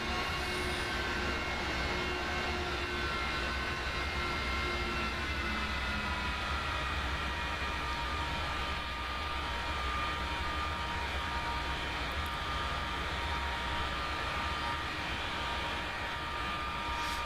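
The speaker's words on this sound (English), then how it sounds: "Get to hear the engines a bit better when we do that." A steady, loud jet engine drone hums continuously with no break, the constant idling roar of a parked F-4E in the DCS flight simulator game, filling the whole stretch.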